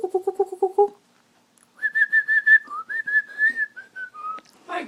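Pet grey bird whistling indoors: a quick run of five repeated chirps, a short pause, then a sustained series of clear, close whistled notes that shift pitch.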